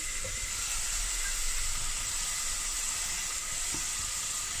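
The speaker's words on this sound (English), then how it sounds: "I'm really just going to let this simmer for a moment" Spicy tuna soup with green onion simmers in a pot, making a constant soft hiss and bubbling murmur at close range, steady throughout with no talking.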